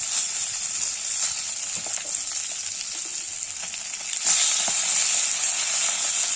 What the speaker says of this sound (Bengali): তো প্রথমে তেলে মাছগুলোকে ছেড়ে দিলাম